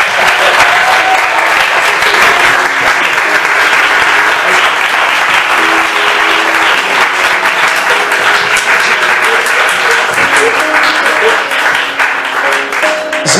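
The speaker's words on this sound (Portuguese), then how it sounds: "Alguém pode aplaudir Jesus," Wedding congregation at a church ceremony applauding, a dense, loud, steady roar of clapping that fills the whole stretch, with faint voices mixed in.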